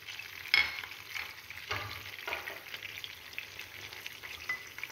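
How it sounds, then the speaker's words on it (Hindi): Diced eggplant with chili powder and salt is stirred in a hot pan for biryani, with a steady sizzle, a sharp scrape of the spoon near the start and repeated stirring scrapes. "मिर्च डालने के बाद इसको अच्छी तरह से मिक्स करेंगे"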